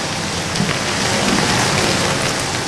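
Heavy rain pouring down steadily over a moored boat, a dense continuous hiss of drops with no voices.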